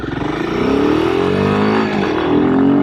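A Royal Enfield Himalayan 452 motorcycle with a 452cc single-cylinder engine accelerates on a road, its loud, steady engine note rising in pitch as it pulls hard through the gear, with no voices over it.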